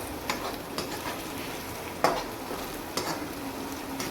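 Onion tadka frying in a pan, a steady close sizzle broken by a few sharp spoon-on-metal knocks as it is stirred.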